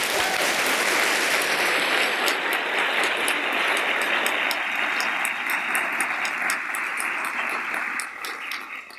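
Audience applause at a law school lecture, a steady wash of many hands clapping that carries on throughout and thins slightly toward the end, heard alone without speech.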